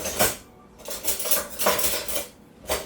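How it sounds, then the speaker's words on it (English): Spoons and a plate clatter and scrape while food is served, several sharp metallic clinks and knocks in uneven bursts, close by, with no talking. "let's get our handy dandy plate. And I'm gonna need another spoon"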